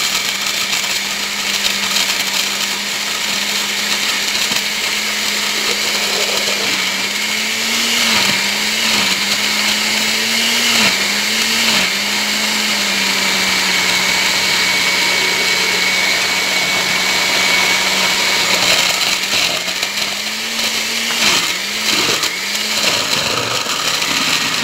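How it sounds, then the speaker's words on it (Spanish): Electric blender blending fresh corn with milk, running loud and close without pause for the whole stretch, its motor pitch dipping and recovering several times as the load shifts. "y comenzamos a licuar."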